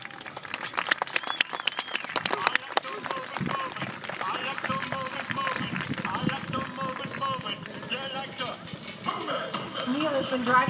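An audience at a horse hitch driving competition applauds, a dense sustained burst of clapping mixed with crowd noise and an announcer's voice, with rhythmic hoof-like clatter under it.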